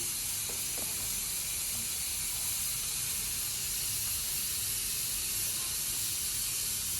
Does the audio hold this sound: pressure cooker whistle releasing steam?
yes